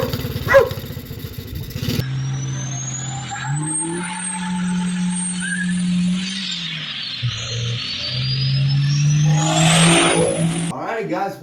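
Small 110cc Tao pit bike dirt bike engine on a test ride, loud and close throughout, with steady revving drones, a brief drop off throttle mid-ride and a rising whine, after a short stretch of talk at the start.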